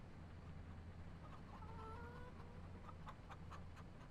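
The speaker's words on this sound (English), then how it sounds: "They're just like atmospheric chickens." Faint chickens cluck softly in the background of Farming Simulator 25 over a steady ambient hum and rain patter, with no one speaking.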